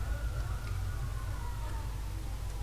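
A police siren wails at a steady, moderate distance in the video game Watch Dogs, under a low rumbling game ambience.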